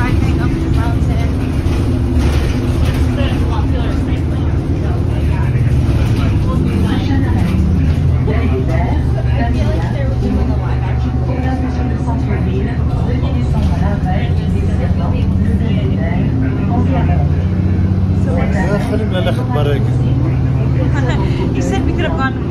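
A vehicle climbs Mont Royal in Montreal, its engine and road noise forming a steady low drone throughout, with people talking over it.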